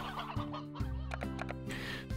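Chickens in the video game Slime Rancher cluck in short repeated bursts, several hens and a rooster close by, over a steady low game backdrop with no talking.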